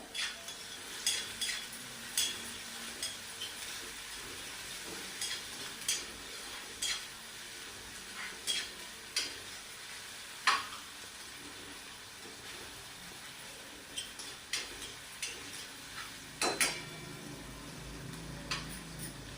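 Garlic cloves and onion fry in a pan for beetroot bhaji, with a soft steady sizzle and intermittent scraping stirs and clinks of a utensil against the pan, close and fairly quiet.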